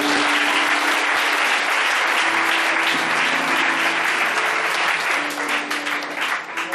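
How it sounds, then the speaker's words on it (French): Church congregation applauding and cheering the Lord, a dense, loud wall of clapping that carries on steadily with voices mixed in, easing slightly toward the end. "On peut acclamer le Seigneur très fort."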